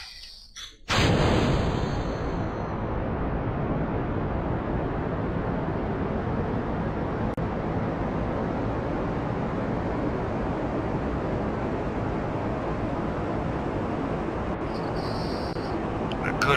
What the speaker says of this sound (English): A good extra kick from the solid rocket boosters.